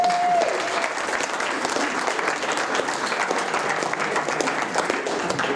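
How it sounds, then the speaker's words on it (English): Audience applause at a live comedy panel game event at a festival, a steady dense wash of clapping from a crowd filling the whole stretch at an even loudness, with no talk over it. "Give him a round of applause."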